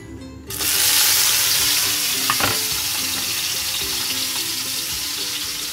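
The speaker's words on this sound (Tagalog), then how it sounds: "Pagkatapos ng ating mantika, sunod natin ang ating sibuyas, bawang." Sliced onion and garlic dropped into hot cooking oil burst into a loud, sudden sizzle that settles into steady, close frying with a light spatula tap, no voices.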